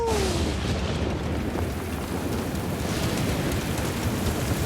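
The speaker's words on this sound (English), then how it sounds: "It's raining!" Steady rain falling outdoors along a Tour de France stage route from Vittel to Colmar, a dense continuous hiss with low rumble throughout, heard alone without voices.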